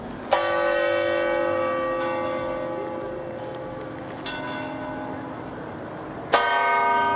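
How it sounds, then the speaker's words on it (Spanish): A church bell of Madrid's Real Casa de Correos tolls with long ringing decay, struck again faintly midway and once more loudly near the end, resonant and unaccompanied. "con el doblar de las campanas de la Real Casa de Correos y de múltiples iglesias"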